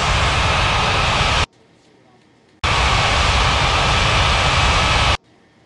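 Loud engine roar of a Turkish airliner landing at Ngurah Rai Bali International Airport in an air traffic control game, cutting off abruptly twice into near silence, with two long steady bursts.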